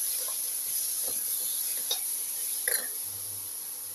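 Tomato pieces sautéing in a pan, with quiet sporadic sizzles and soft stirring clicks over a low steady hiss.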